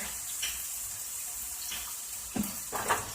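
Water runs steadily into a Worcestershire sauce mixture being made for egg rolls, a soft continuous pouring hiss that ends in a couple of brief splashes.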